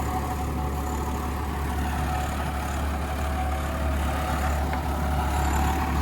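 A tractor pulls a rotavator across a field with a steady, heavy diesel drone and a low rumble. The sound stays continuous and fairly close, with a faint mechanical whir and no speech.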